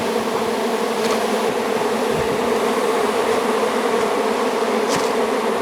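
A dense colony of honey bees buzzes around an open hive, a steady, loud drone of countless wings holding unbroken throughout.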